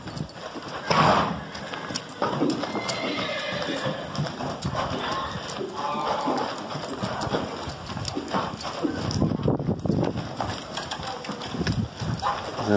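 A young horse's hooves clip-clop on the ground in an uneven rhythm during saddle training, with occasional horse snorts and a voice speaking nearby.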